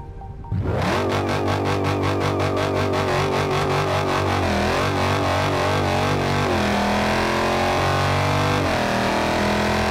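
A Dodge car's engine revs hard in the driving game BeamNG Drive, a loud, steady mechanical roar with rising and falling pitch sweeps running continuously after a brief quiet start.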